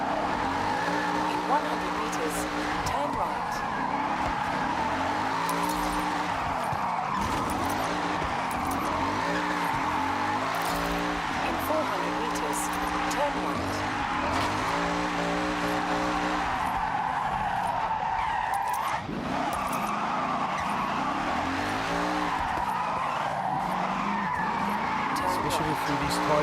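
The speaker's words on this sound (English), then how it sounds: "Drift as much as you can on your way to a drift run destination." Tire squeal and skidding from a car drifting through tight corners in the Forza Horizon 6 racing game, a continuous loud screech over engine drone, with a voice talking over it.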